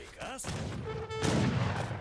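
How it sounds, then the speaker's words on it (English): Booming cannon fire from a Jazar cannon in a strategy video game during a treaty match between Lion and Soldier factions, with a couple of heavy blasts and crackling impacts within a short, busy battle burst. "the Jazar cannon coming in"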